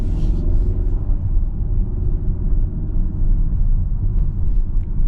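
2026 Kia Sorento X-Line turbocharged engine with dual-clutch transmission, a steady low rumble from inside the cabin, droning evenly throughout with no clear surges.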